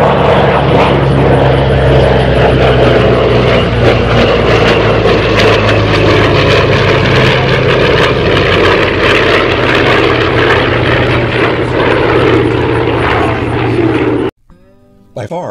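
A Douglas Skyraider single-engine heavy piston aircraft engine drones loudly and steadily with a rough, throbbing low rumble, close by. It cuts off abruptly near the end, and a voice is heard over it.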